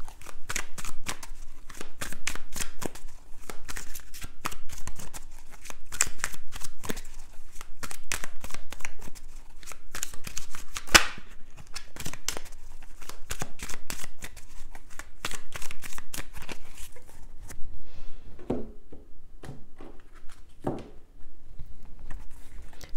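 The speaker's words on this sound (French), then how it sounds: "On va recouvrir les cartes." Tarot cards are shuffled, handled and laid out on a table in a long run of crisp flicks, taps and papery snaps, close and steady, with a few softer slides near the end.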